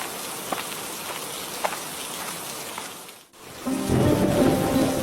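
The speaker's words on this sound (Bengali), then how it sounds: "এই রে, বৃষ্টি যে নেমেই পড়লো।" Cartoon rainstorm: steady rain patters under a few cracks and rumbles of thunder, then a brief hush gives way to a heavier, louder downpour.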